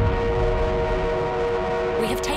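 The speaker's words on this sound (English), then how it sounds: "Enemy armored train is en route." An enemy armored train in the video game Battlefield 1 rumbles loudly and continuously, with a sustained horn-like tone over the rolling noise and a brief bright burst near the end.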